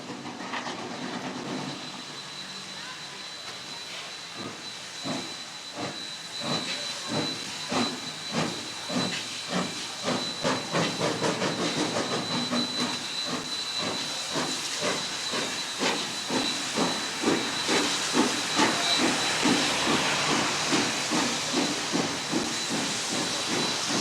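A J-Class steam locomotive chuffs away in the rain in New Zealand with steady hissing steam, its exhaust beats quickening into a rapid rhythm as it gathers speed, loud and close.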